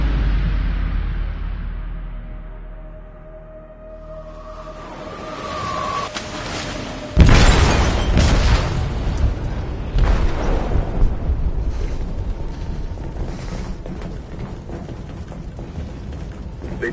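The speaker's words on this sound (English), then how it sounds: "They detonated an explosive in the hold. The ship is sinking, sir." An explosive detonates in a ship's hold in a video game: after a quiet low rumble and creaking, a sudden loud blast erupts, followed by a long roaring, crackling aftermath of debris and rumbling that continues to the end.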